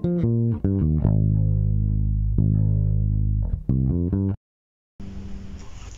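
An electric bass plays the bridge of a song: deep sustained notes with a few quick plucked figures, then a brief silence and a short noisy burst at the end.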